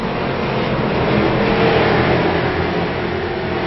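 A race car engine revs and drones steadily at Langley Speedway during an all-star racing event, loud and close throughout with a sustained mid-pitched roar.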